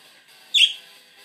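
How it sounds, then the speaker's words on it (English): A pet bird gives one brief high chirp close by against a faint steady background of techno music. "he does chirp a lot more when it's this one"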